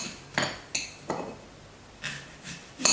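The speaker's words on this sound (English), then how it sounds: "And what I'm doing is just slicing rings." A knife cuts an apple into rings on a board, giving a handful of separate close, moderately quiet knocks and clicks spread unevenly, with no talking.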